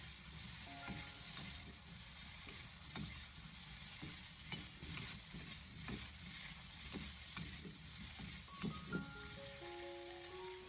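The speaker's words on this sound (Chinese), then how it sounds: "然后再继续的给它小火不停的翻炒一下，给它翻炒均匀" Beef brisket with sauce is stir-fried over low heat, a soft, quiet sizzle broken by repeated scraping strokes of the spatula against the wok. A few short tonal clinks follow near the end.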